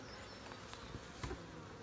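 Honey bees buzz inside an open hive with frames of brood and nectar, giving a faint, steady insect hum with a few soft handling bumps.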